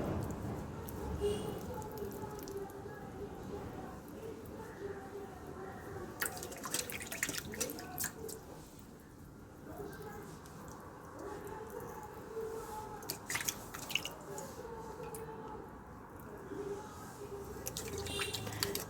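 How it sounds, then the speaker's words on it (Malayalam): Water splashed onto the face and rubbed in during a face wash, heard as quiet, irregular drips and splashes with occasional brief bursts of running water, close but soft throughout. "നമുക്ക് കുറച്ച് വെള്ളം വെച്ചിട്ട് ഇങ്ങനെ ഒന്ന് മസാജ് ചെയ്ത് കൊടുത്തിട്ട് കഴുകി കളയാം കേട്ടോ."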